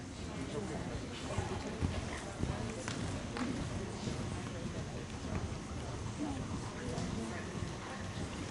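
Horses cantering around an indoor arena during a horse show class, hooves thudding in a steady, muffled clip-clop against a broad noisy background, with a voice talking over it.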